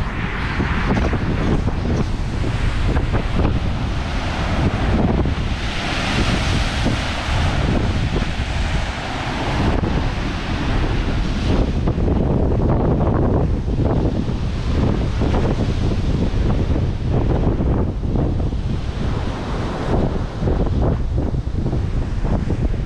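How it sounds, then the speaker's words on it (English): Caribbean sea waves breaking on rocks along the coast of Aruba, a loud churning roar of surf mixed with heavy gusting wind on the microphone and no one speaking. "I could just sit here a day and watch the waves."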